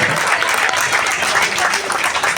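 An audience claps at the Nagari Nivara Premier League 2025 prize ceremony, a loud, dense and continuous round of applause from a crowd filling the whole moment.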